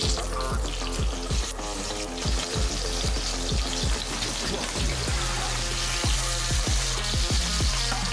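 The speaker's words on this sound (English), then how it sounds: "On this hot plate, spreading butter, it's nice." Butter sizzling on a hot plate at a Korean pork belly restaurant, a dense, crackling fry noise with rapid popping like rain, close and continuous with regular low knocks underneath.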